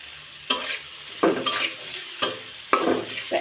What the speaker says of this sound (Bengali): পেঁয়াজটা প্রথমে একটু ভাজি করে নিতে হবে